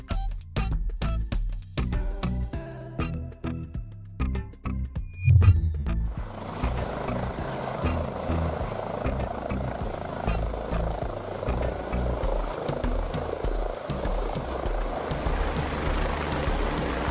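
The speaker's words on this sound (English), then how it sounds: "Helicopter." Helicopter flying, heard as a steady whirring rotor drone with broad noise that runs unbroken through the second half, after a stretch of sharp taps and knocks.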